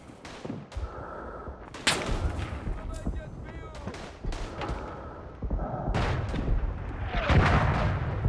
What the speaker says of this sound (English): An artillery shell landed on me and left only my rump.